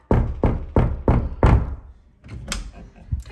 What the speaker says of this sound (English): Let's just give it a knock.